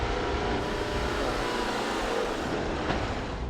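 Steady road traffic with car engines droning and revving nearby, a continuous loud wash of passing vehicles with no pauses, heard from within a city street.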